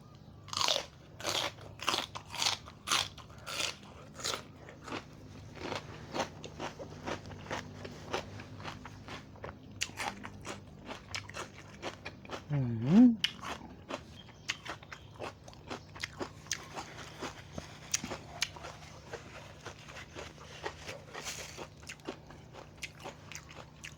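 Close, crisp crunching as someone chews spicy pounded cockle salad, with steady repeated bites and munches continuing throughout, no talking.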